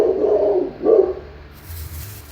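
A dog named Indy gives two loud barks close by, the second slightly louder. The barks are followed by a quieter low rumble.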